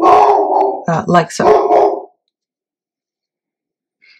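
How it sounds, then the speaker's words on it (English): A dog barks at home during a crafting session, a short run of loud, close barks lasting about two seconds before falling silent, with a brief spoken remark alongside. "Sorry about the dog."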